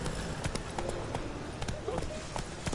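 In The Witcher 3, the horse Roach gallops with quick, rhythmic hoof clip-clops repeating steadily across the ground while a voice speaks over it.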